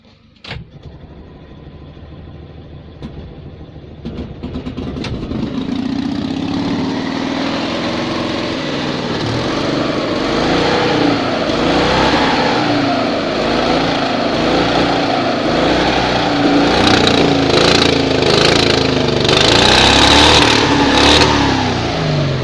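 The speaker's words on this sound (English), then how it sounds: "Blown the exhaust to pieces again, but I think we can say that engine runs very nicely." The engine of a 1972 Invacar Model 70 with a blown exhaust starts and keeps running, a loud, raspy, uneven drone with bursts of revving that grow rougher toward the end, heard alone.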